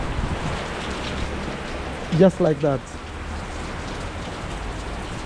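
Rain falls steadily outside a home as a continuous even hiss, with a brief burst of talk partway through.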